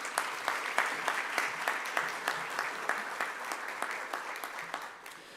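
High school prize-giving audience applauding award-winning learners: a moderately faint, steady round of clapping from a hall crowd, individual claps audible within the wash, tapering off at the end.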